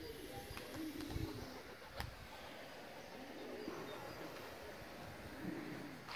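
Pigeons coo softly outdoors near a dovecote in summer, their low repeated coos rising and falling against a steady background hum, with a faint voice and occasional light clicks.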